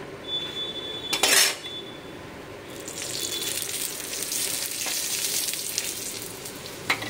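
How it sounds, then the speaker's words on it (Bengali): A vegetable curry cooks in a pan, giving a steady soft sizzle, with a sharp clatter of utensils early on and a couple of light knocks later. "এখানে তরকারি হচ্ছে।"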